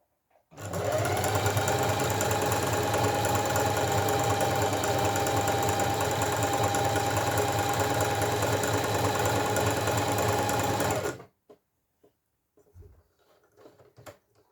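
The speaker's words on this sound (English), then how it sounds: "when I stop sewing, if I pause for any reason to adjust or check, make sure your needle goes back into the fabric" Sewing machine stitching fabric for a boxy zipped pouch: a continuous close mechanical whir runs for about ten seconds, then stops abruptly, leaving a few faint handling clicks.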